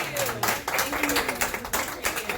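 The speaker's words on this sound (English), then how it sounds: "Give a round of applause." A crowd claps in a brief burst of applause, with voices chattering over the clapping.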